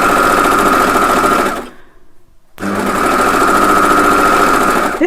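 An overlocker stitches a seam through cushion fabric with a loud, steady mechanical whir, breaks off for about a second of near silence, then runs again at full speed.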